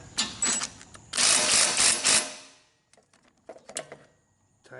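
A ratchet tightens a loose bolt on a Craftsman walk mower with a Briggs and Stratton engine, giving two bursts of rapid metallic clicking close by, then a few scattered clinks and taps after a short pause.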